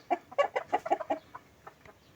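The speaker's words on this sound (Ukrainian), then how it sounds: "А в цій буді в нас також курочка. Також сидить на яйцях." A broody hen sitting on eggs clucks in a quick burst of soft, close calls, then trails off into a few fainter clucks.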